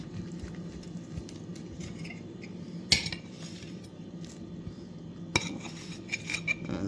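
A knife cuts open a warm stuffed baked potato made with leftovers and held with toothpicks, giving faint soft scraping and a couple of sharp clinks against a plate.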